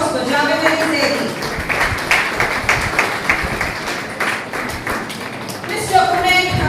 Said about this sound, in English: A big round of applause for Javed Ali Zaidi.